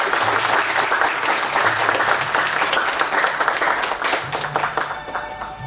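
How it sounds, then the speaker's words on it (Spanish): Loud, continuous applause from a crowd at a high school senior graduation ceremony as a graduate stands, steady rolling claps filling the room without talk. "Un fuerte aplauso a Emilia."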